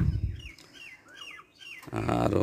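Pigeons kept on a rooftop calling during a morning flying session, a run of short chirping calls that fade into a quiet gap before a louder burst of mixed noise.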